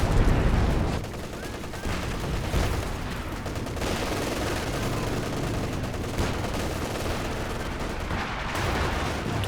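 An anti-tank gun fires on a Panther tank in Company of Heroes 2. Heavy, booming shots cut through a dense, continuous din of battle gunfire and explosions.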